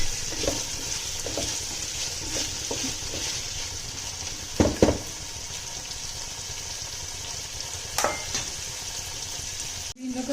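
Vegetables frying on a low flame for veg biryani, a continuous gentle sizzle with occasional spoon scrapes and a couple of louder stirring knocks, close and steady with no talk.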